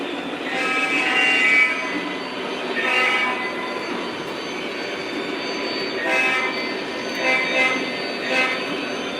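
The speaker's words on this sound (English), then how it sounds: "I was leaning down to get a video of this train" Lionel and MTH toy model trains in a Conrail-themed layout run steadily along the track, with a continuous rolling rumble and repeated horn-like tonal blasts swelling and fading over about nine seconds.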